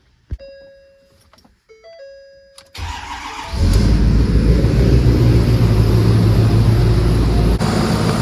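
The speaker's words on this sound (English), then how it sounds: "now I'm gonna go ahead and start the truck and leave it idle for maybe 10 minutes or so in here" A Ford 6.7 Powerstroke diesel pickup with a coolant leak starts after a few warning chimes, then cranks and settles into a loud, steady low idle rumble in a barn.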